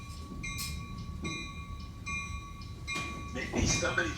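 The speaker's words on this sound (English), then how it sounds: "Now we're looking at our 3rd ACE train" An ACE passenger train rolls past in California, its horn sounding in steady sustained blasts over a continuous rumble of wheels, fairly close, with a voice speaking faintly underneath.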